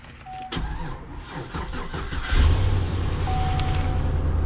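An AE86 engine cranks briefly after a jump-start from a low battery, then catches and settles into a steady, loud idle close by.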